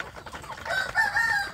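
Free-range village chickens and a rooster on a farm, with faint clucking followed by a short crowing call at moderate distance over low background noise.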